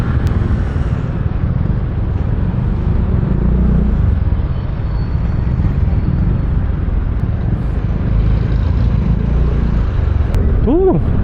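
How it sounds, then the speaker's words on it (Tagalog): Steady low rumble of road traffic with car engines droning throughout, voices murmuring underneath, and a brief rising horn-like tone near the end. "Grabe yung traffic."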